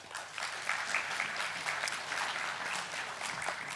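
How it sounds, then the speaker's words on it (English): A law conference audience applauds steadily after a panel discussion, a dense wash of many hands clapping at moderate volume throughout, with no talking over it. "A round of applause again for them."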